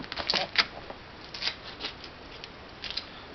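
Scissors snip repeatedly through a damaged record album cover, giving a quick series of crisp, close cuts over faint room noise.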